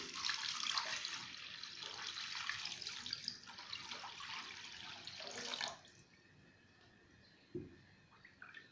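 Water pours steadily into a soup pot for chicken soup, a close, hissing splash that runs for several seconds and then stops abruptly, followed by quiet room tone and a single soft clunk.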